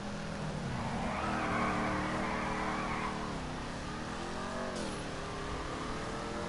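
A car in GTA 5 revs hard and accelerates, engine pitch rising and falling through gear changes, with tires skidding and squealing around a corner, steady and close with no voices.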